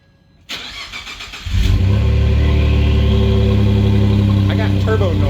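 A Ford F150 fitted with an aftermarket exhaust cranks and fires after a brief burst of noise, then settles into a loud, steady, deep rumbling idle close by, with people talking faintly underneath.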